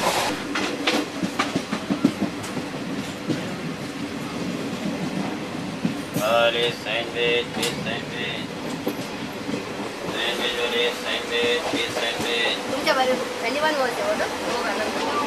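A passenger train in India bound for Goa rumbles along the rails with steady rhythmic clatter, punctuated by screeching squeals of wheels, while a voice talks over the noise.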